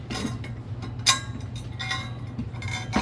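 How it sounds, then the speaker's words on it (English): Metal washers being handled and checked, giving a few scattered light clinks and ticks against a faint steady hum, close but quiet, with no talk. "And I'm going to check the washers as well."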